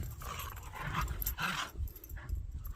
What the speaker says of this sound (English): Dogs are playing over here. They like to play fight a lot.